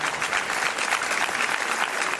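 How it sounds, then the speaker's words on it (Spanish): An audience at a Spanish local event applauds the official chronicler of the Villa de Quesada, a steady wash of many hands clapping at moderate distance throughout. "Os pido un aplauso para el cronista oficial de la Villa de Quesada."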